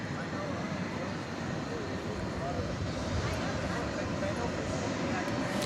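A Boeing 787-9 Dreamliner at DFW Airport at night, its engines giving a steady, loud broadband roar that holds evenly throughout, with faint talk mixed underneath.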